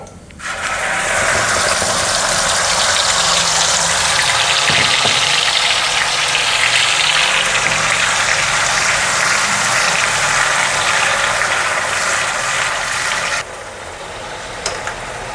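Loud, steady broadband sizzle of cumin seeds and ground paste frying in hot oil and butter in a pan, close and continuous with no talk, dropping slightly near the end.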